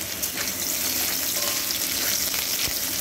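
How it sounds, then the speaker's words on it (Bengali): Water spinach stems are stirred and fried in a pan with a pinch of salt, a dense close sizzle with soft scraping strokes, heard alone without speech. "এবারে একটু নাড়াচাড়া করে নেব।"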